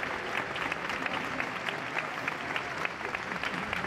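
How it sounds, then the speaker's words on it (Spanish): Crowd applause at the funeral of Adolfo Suárez in Ávila, a steady, dense clapping from many townspeople outdoors near a church, sustained at even loudness throughout. "Aplausos emocionados para Adolfo Suárez,"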